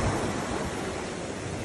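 Sea waves at Puerto Galera, a broad, steady wash of surf with low rumble and some wind buffeting the microphone, no voices.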